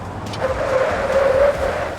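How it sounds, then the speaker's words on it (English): An RV's tyres skid and squeal steadily for about two seconds under emergency braking from about 60, with engine and road noise filling the background. "I'm on the brakes now."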